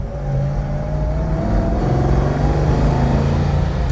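A 1967 Ford Mustang GT500 Super Snake tribute's V8 rumbles loudly up close under light throttle, its tone climbing gently as the car pulls away, with no voices over it.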